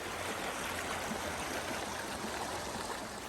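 A creek flows in November, a soft, even wash of running water that stays quiet and constant without other sounds.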